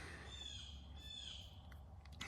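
A crow caws outdoors in a couple of harsh, drawn-out calls, fairly distant and moderately loud over a steady low background hum, with no talk.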